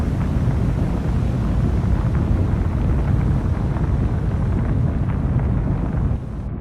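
A torpedo launched from a submarine tube in the naval game Cold Waters gives a loud, dense rushing whoosh of water and air that holds steady, then drops off at the end.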